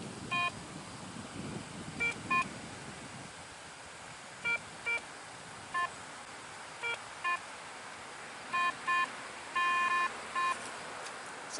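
Short, sharp electronic beeps from a metal detector sweeping over ground full of buried metal in a relic field, sounding in irregular bursts and clusters, some doubled, over a steady background hiss.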